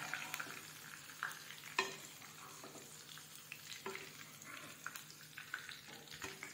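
Okra frying in a kadhai for dhaba-style bhindi masala, with faint, steady sizzling and occasional soft scrapes and taps of a stirring spoon against the pan.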